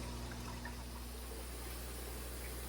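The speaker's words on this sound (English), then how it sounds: "I'm just draining it back into a container." Aquarium water from a cory catfish fry tank drains steadily into a container, a continuous close trickling wash with a low constant hum beneath, no voices.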